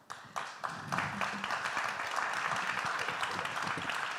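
Applause from a national conference audience, starting with a few separate claps that swell into full, steady clapping from the hall.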